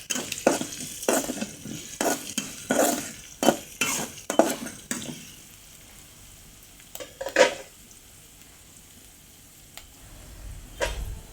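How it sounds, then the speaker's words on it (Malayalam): Onions dusted with a pinch of turmeric powder are stirred in a pan for a pumpkin-leaf thoran: a burst of sharp spoon scrapes and clacks over a soft sizzle, then quieter frying with a few isolated scrapes. "ഞാനിതിലോട്ട് ഒരു അല്പം മഞ്ഞൾപ്പൊടി കൂടി ചേർക്കുന്നുണ്ട് ഒരു നുള്ളു കേട്ടോ മഞ്ഞൾപ്പൊടി കൂടെ ചേർത്തിട്ട് നല്ലതുപോലെ തന്നെ ഇളക്കി കൊടുക്കാം"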